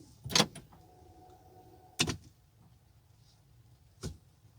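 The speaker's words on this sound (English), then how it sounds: "See if it does anything different when I change gears." The gear shifter of a 2020-2024 Toyota Highlander, fitted with a crystal shift knob, moves through its positions in three brief, separate clunks inside a quiet car cabin.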